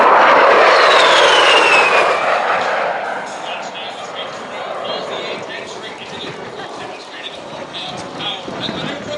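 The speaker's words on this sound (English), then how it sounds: "And from the right, Major Brown and the A-10 Thunderbolt 2" An A-10 Thunderbolt II jet roars past at an air show, loud at first and then fading into a distant rumble, while an announcer talks over a public address system.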